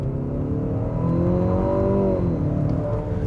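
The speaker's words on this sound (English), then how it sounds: "I do also notice that the engine makes a pretty, interesting sound" A 2025 Infiniti QX60 Autograph SUV's 4-cylinder engine drones and rises in pitch as it accelerates, a steady loud hum heard from inside the cabin, with no talking.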